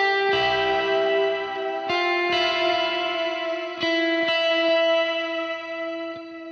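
Clean electric guitar chords ring out one after another through a BOSS GT-1000CORE with the effect bypassed, each strummed and left to sustain, with a dry, unprocessed tone and no talking.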